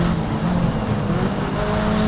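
Racing car engine in the video game Project Cars 3, a Lancer driven in the wet, droning steadily and loudly throughout with a sustained engine hum and faint high whines, no talk over it.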